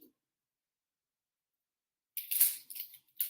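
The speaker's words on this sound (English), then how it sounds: "I'm going to cut up a little bit of onion." A knife slices through an onion on a cutting board. After a long silence come a few short, crisp, crunchy cuts in quick succession, close and fairly quiet.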